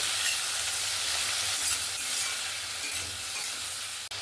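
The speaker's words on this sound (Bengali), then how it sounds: "চিংড়ি মাছগুলো এখানে আমি বেশি ভাজবো না হালকা করে ভেজে নেব" Shrimp lightly frying in oil in a wok, a steady close sizzle with faint stirring, continuous and even throughout without any voices.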